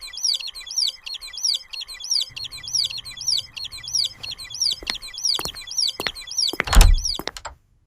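Chicks in a cartoon chirping in a quick, regular series of high peeps that repeat throughout, with a low hum joining midway and a few thumps and a heavier knock near the end.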